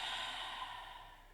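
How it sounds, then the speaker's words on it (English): Deep, audible breath during a yoga flow class, a single long exhale of steady airy breath heard up close and fairly loud with no talking. "Good, I hear that. Breathing out."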